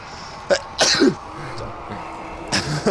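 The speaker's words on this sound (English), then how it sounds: "You got a sneeze?" A player sneezes during a gaming session, a couple of abrupt bursts followed by a later burst, close to the microphone against quiet background.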